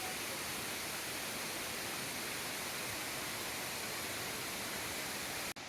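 Todtnau Waterfall in Germany, a 97-meter cascade, pours in a loud, steady broadband roar of falling water, continuous and unbroken until the sound cuts out at the very end.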